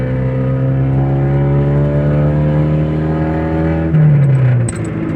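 A Mitsubishi Champ pickup's loud modified exhaust drones and revs up steadily, then drops off sharply before settling back, close and alone.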